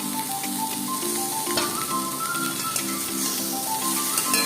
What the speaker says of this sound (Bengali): আবারও একটু ভেজে নেব